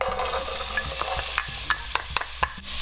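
Onion and chile go into hot olive oil in a pan, a soft steady sizzle under scattered stirring taps and scrapes, moderately close with no speech.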